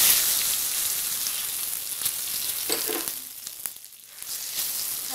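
Whole spices for a phoron crackle and hiss in hot oil over a medium flame, a continuous close sizzle with scattered sharp pops and a brief dip near the end, with no one speaking.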